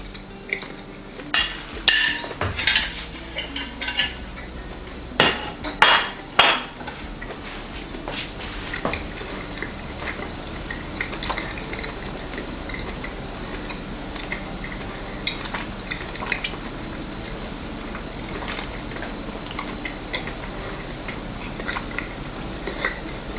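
An air-fried T-bone steak from a Cuisinart air fryer toaster oven is cut and eaten: a few sharp cutlery clinks and scrapes at first, then quieter, steady close-up chewing with no talking.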